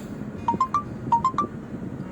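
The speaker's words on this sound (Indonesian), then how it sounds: "Ada telepon tuh" A phone rings with short repeated electronic tones in two quick bursts of three, clear and fairly close, over the low rumble of a vehicle moving through city traffic.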